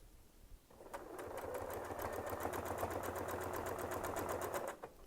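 A sewing machine stitching a quilt along a template, its fast, even needle clatter running steadily for several seconds at moderate volume, then stopping, with no voices.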